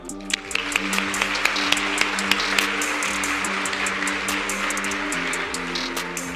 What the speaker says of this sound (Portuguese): Uma salva de palmas para quem testou